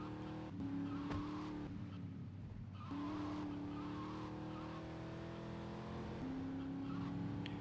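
A car driven in the video game GTA Vice City Stories, with a steady engine drone, rising revs and repeated tire squeals and skids throughout.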